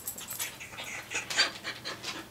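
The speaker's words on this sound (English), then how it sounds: "I'm hearing my dog here." A dog pants in rapid, rhythmic breaths close to the microphone, steady and fairly loud throughout, indoors with no one speaking.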